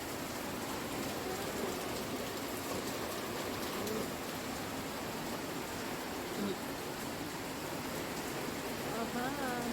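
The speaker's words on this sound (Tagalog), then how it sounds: "Ang lakas ng ulan." Heavy rain falls outside in a Philippine city, a dense, steady hiss of downpour that holds constant throughout, with faint bird calls behind it.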